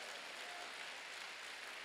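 A church congregation applauding at a summer revival service, a steady, even wash of many hands clapping together at moderate distance, with no break over the short stretch.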